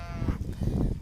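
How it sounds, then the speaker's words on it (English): Goats on Gorse Hill farm bleat close by in a short, steady burst of nasal, wavering calls with no talk over them. "Oh, here are the goats."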